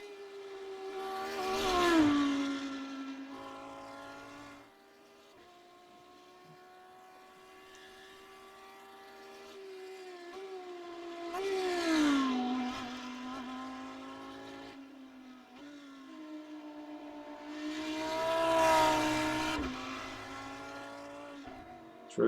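A race car engine at the Nürburgring 24-hour test rises and falls in pitch three times as it revs and changes down, with a steady drone between the surges.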